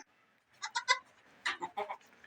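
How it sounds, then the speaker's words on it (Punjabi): Newborn goat kids bleat in two quick bursts of short, high, wavering cries, close by and fairly soft, with no talking. "ਆ ਦੇਖੋ ਦੋਸਤੋ ਆ ਬੱਕਰੀ ਨੇ ਦੋ ਬੱਚਿਆਂ ਨੂੰ ਜਨਮ ਦਿਆ"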